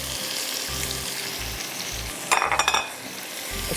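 Marinated chicken fries with crushed red chillies, green chillies and tomatoes in a pan, a continuous close sizzle broken by a short burst of quick spoon scrapes and clinks midway, no talking.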